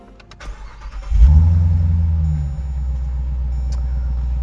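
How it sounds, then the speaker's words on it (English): A 2021 Dodge Durango SRT Hellcat AWD, a 710 hp three-row SUV, starts up with a few clicks and then a sudden loud, deep engine roar that flares and settles into a heavy, rumbling idle, close by. "I gotta start up the car, excuse the noise."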